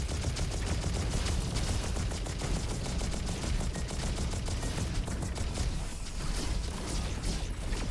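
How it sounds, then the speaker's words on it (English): Continuous heavy video game gunfire, a dense unbroken barrage of rapid shots and impacts filling the whole stretch at steady loudness. "I somehow dodged that shot."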